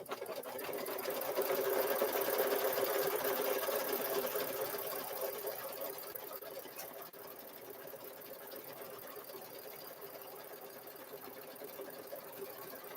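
An embroidery machine stitches quilting into a zipper bag held in its hoop, a steady close mechanical whir of rapid needle strokes that swells and then settles to a slightly quieter even run, with no voices.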